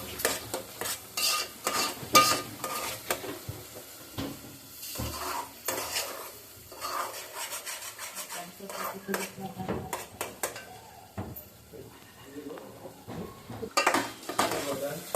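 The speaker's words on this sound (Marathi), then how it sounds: "लसूण पेस्ट टाकून घेतलेलं सगळं व्यवस्थित मिक्स करायचं" A utensil repeatedly scrapes and clatters against a pot as garlic paste is stirred into mutton, with a light sizzle underneath and irregular metallic knocks.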